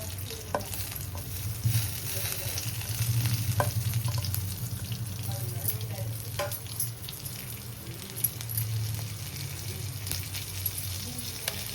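Mustard seeds and cumin seeds splutter and crackle in hot oil in a cooking pan, a close, continuous sizzle with scattered pops and occasional stirring, and no talking.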